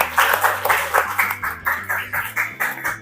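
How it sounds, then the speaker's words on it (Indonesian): A small indoor group at a school teacher training session claps together in a steady rhythmic beat, moderately loud, with each clap pulse clearly separated. "Terima kasih untuk kita semua, tepuk tangan"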